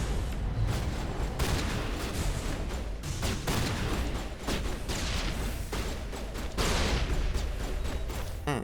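Dense, continuous gunfire and combat bursts from the Mass Effect video game, with rapid repeated shots and impacts layered over one another at steady high loudness, with no voices.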